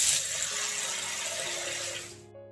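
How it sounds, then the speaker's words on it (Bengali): Tap water gushes steadily as a scored, cut fish is washed under it in a kitchen. The flow stays loud and close, then cuts off near the end. "আমি মাছটা ধুচ্ছি।"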